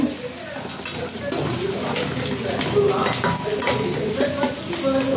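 Taro stolon bhaji with prawns sizzles steadily in a pan, with continuous frying crackle and repeated scraping and clinking from stirring utensils throughout.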